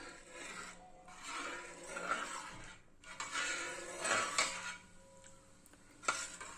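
A spoon stirs kadala parippu pradhaman, a sweet chana dal payasam with added second coconut milk, in a pot on the stove, giving soft intermittent scraping and sloshing strokes at a moderate distance.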